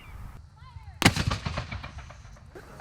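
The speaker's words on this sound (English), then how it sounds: "The last demonstration of the day was a cannon used to show the labor of the fort." A cannon fires once at a Fort Scott historical reenactment demonstration, a sharp loud boom followed by a rumbling decay and scattered echoes, with some faint background noise before the blast.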